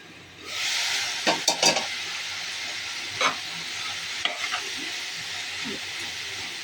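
Ridge gourd curry is stirred in a hot pan with a steady frying sizzle underneath, punctuated by several sharp spoon-on-pan scrapes and clinks; no one speaks.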